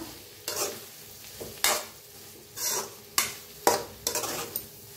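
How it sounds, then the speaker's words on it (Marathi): A spoon stirs spice masala roasting in a pan for a potato curry, making about seven rhythmic, close scraping strokes against the metal over a soft sizzle, with no voices. "तर छान असं भाजून घेऊया सगळा मसाला"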